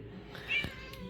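A house cat gives a single short meow, close and moderately loud, in a quiet indoor room.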